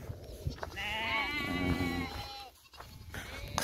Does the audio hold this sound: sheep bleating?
yes